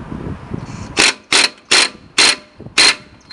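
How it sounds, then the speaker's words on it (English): Five loud, evenly spaced bursts from an impact gun tightening a ball joint nut on a Chevy Blazer through a special socket, each short rattling hammer lasting about a third of a second, heard close up with no talk. "the doctor takes the best gun and he tightens this like crazy"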